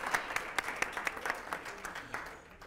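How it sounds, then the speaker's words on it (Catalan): A small studio audience at a Catalan TV word quiz gives a contestant a brief round of applause, light and fairly quiet, with a few distinct claps standing out before it fades. "però li fem l'aplaudiment,"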